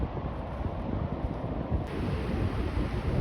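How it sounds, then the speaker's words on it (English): Steady wind blowing over ocean waves on a sunny beach after a storm, a continuous broadband rush with the soft wash of surf, fairly close and even throughout, with no voices. "there's still the wind over the waves slightly"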